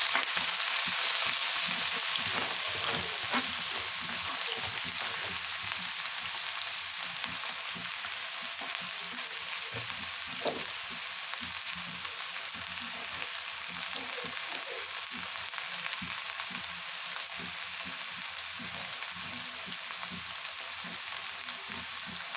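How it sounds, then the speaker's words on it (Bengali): Vegetables for a hilsa fish chachari fry in hot oil in a kadai (wok), giving a soft, steady sizzle that runs unbroken throughout, fairly quiet, with no talking. "তেলটা আগে থেকে কড়াই দিয়ে রেখেছিলাম গরম হওয়ার জন্য। এখন এর ভিতরে দিয়ে দিচ্ছি সবজিগুলো।"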